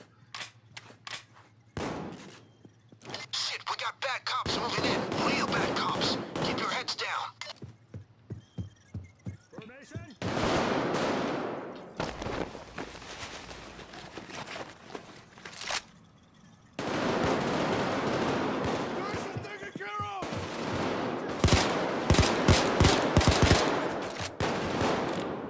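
Gunfire in the Payday 2 Hoxton Breakout heist, loud bursts of automatic fire and single shots in irregular clusters, dense and close, with gaps and crackling impacts between volleys.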